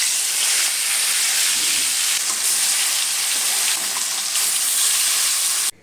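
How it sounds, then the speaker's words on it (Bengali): Fish sizzles steadily in hot oil in a pan, a loud continuous frying hiss close to the microphone that cuts off abruptly at the end, with no one talking. "এদিকে দেখো মাছটা একদম লাল লাল করে ভেজে নিলাম"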